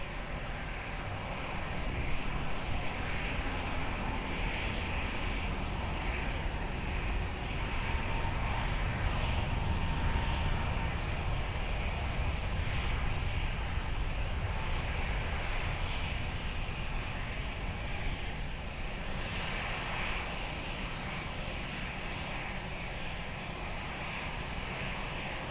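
An airliner taking off from runway 20 at Lisbon Airport gives a steady, loud jet engine roar that holds through the whole stretch and rises slightly near the middle.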